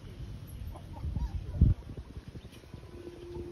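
Chickens outdoors in Valenzuela giving loud squawks and clucks, with one sharp, agitated cry standing out in the middle, mixed with background noise and faint voices.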